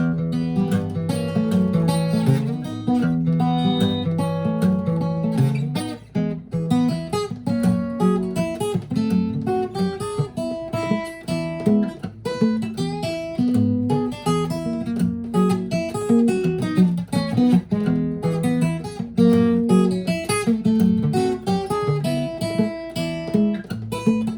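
Electric guitar plays a Travis-picked intro with alternating bass notes and chords, a steady bouncing rhythm, full and clear with no speech.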